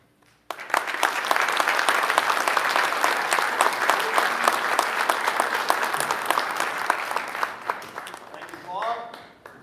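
Sustained audience applause for the Postmaster General at the National Association of Letter Carriers Heroes of the Year event, loud dense clapping starting abruptly after a brief quiet and fading near the end as a voice begins.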